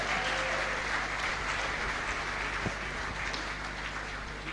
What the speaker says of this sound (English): A rounding sound of applause for all of them.